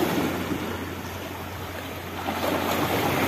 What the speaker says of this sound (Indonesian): Pantainya umbak